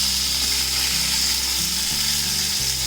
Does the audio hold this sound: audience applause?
no